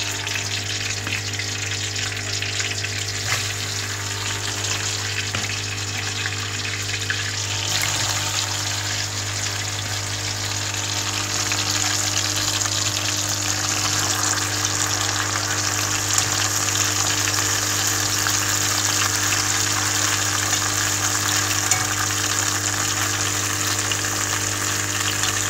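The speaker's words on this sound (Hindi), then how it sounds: "हमने घी गर्म हो गया और अब इसके अंदर डालते हैं चिप्स" Potato chips fry in hot ghee with a steady, dense sizzle and bubbling that holds loud and unbroken for the whole stretch, with no voices.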